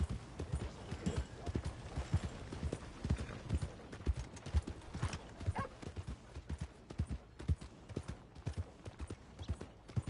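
Horse hooves clip-clop in a steady, even rhythm in the video game Red Dead Redemption 2, fairly close and moderately quiet, with no other sounds around them.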